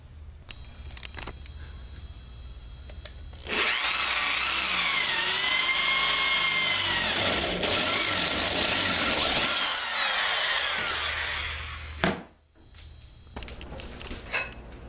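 A power drill whirs loudly and steadily for several seconds boring 1/4 inch holes for a bike surfboard rack, then winds down, with brief clicks and handling noises before and after.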